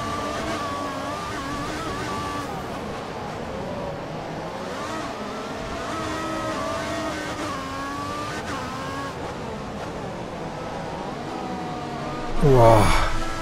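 A Formula 1 car in the game F1 2014, racing at Monaco, its high engine note whining and shifting pitch as it accelerates in traffic, ending with a loud sharp burst, while someone talks over it.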